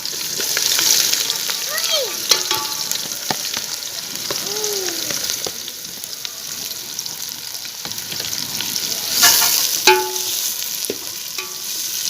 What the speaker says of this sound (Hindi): प्याज को हमने हल्का ब्राउन करना है।